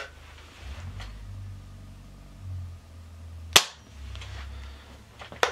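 A single sharp shot from a Diana Mod 6 air rifle fired through a chronograph, one loud close crack standing out over a low background hum, with no one talking.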